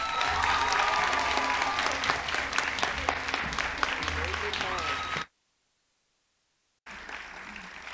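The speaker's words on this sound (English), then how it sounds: "One more applause for Cristeli and for all the graduating class." A crowd applauds loudly at a 2021 graduation ceremony with dense, sustained clapping and some voices. It cuts to silence for about a second and a half, then the clapping resumes.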